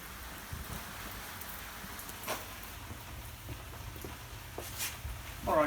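Steady rain falls outside on a wet day, a soft continuous hiss of drops with occasional louder patters, fairly quiet and with no voices over it.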